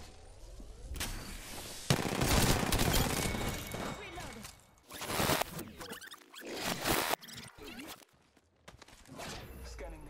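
Rapid automatic gunfire from Apex Legends combat, loud bursts in several clusters with short gaps, mixed with footsteps and movement noise, no talk.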